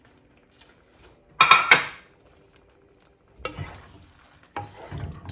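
A lid clatters onto a pot of chicken madras curry: one sharp, loud burst of metal clanking, then two shorter knocks and rattles a couple of seconds later, close by with no talking.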